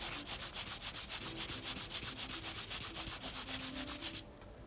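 Rhythmic back-and-forth rubbing of wood dust over a turned lignum vitae and snakewood bowl, a close, soft hissing swish repeating evenly before stopping.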